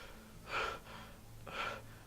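Two exhausted gasps from a character in the horror game Shadows of Zethris, each a short breathy burst about a second apart, fairly close and alone over a quiet low hum.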